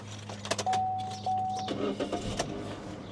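A cheap Domino's pizza delivery car, recently impounded, cranks and starts with a steady tone running through the start, a brief engine hum and a few clicks and clunks, recorded close in a quiet space.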